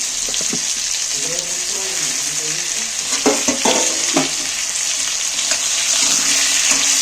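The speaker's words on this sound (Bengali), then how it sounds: "সব অনাজগুলো একটু তেলের মধ্যে মেরে ভেজে নেব" Steady broadband sizzle of food frying in oil, with a few clinks and scrapes of stirring, close and continuous.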